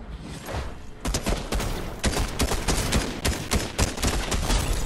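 Rapid gunfire in the Fortnite video game cracks out in a dense string of sharp shots, some in quick bursts, loud and close with no talking over it.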